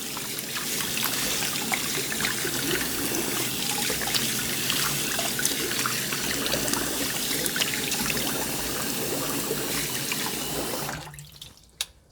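Tap water runs steadily at close range as a face is rinsed after a wet shave with a Feather Artist Club SS razor, a continuous splashing trickle that cuts off abruptly near the end.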